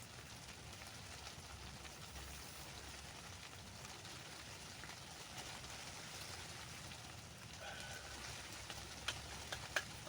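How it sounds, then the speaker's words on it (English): Rain falls on a tent's roof and walls in a soft, steady patter with a few sharper drops near the end, quiet and continuous with no voices. "I love the sound of the rain on the roof."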